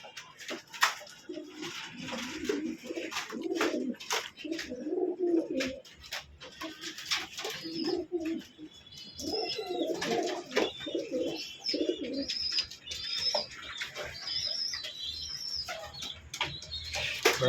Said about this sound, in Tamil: இப்போ சும்மா நார்மல் ஃபேன்சி கர்ணப்புறாலாம் வச்சுருக்கோம்.